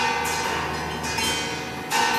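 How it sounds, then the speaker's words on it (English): Water drops fall onto tuned metal discs of set thickness, diameter and hardness, producing sustained bell-like ringing tones that overlap in a dense, shimmering wash with soft new strikes. "discs of certain thicknesses and diameters and hardness would actually sound virtually indistinguishable from bells"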